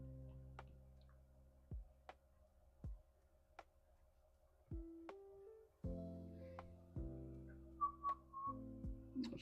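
A person whistles a slow tune, notes held and sliding, with sharp clicks and ticks scattered throughout in a quiet room.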